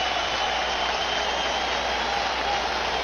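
A baseball stadium crowd during a 1999 National League Division Series playoff game roars steadily as fans rise with a full count, a dense, continuous wash of cheering and applause with no break.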